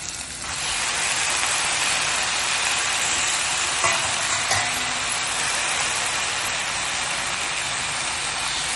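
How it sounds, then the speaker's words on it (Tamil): Indian pennywort (vallarai) greens sauté in a pan with a steady, dense sizzle that runs continuously from start to finish at moderate loudness, with no talk over it. "நம்ம அந்த கீரையை நல்லா வதக்கணும்"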